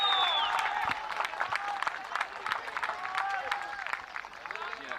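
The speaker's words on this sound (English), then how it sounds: "Just listen to the roar of the crowd." A large cricket crowd roars and applauds a boundary hit by Malta against Romania in the Valletta Cup final, a loud, dense wash of clapping and cheering that stays strong throughout with a slight easing midway.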